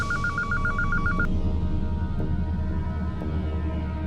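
A telephone rings in a warbling electronic trill for about a second, then stops, leaving a low steady hum underneath.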